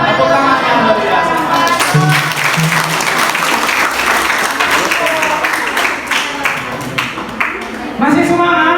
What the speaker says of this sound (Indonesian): Tepuk tangan yang luar biasa.